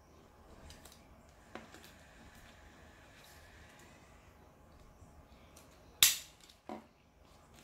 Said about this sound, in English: Then staple them also.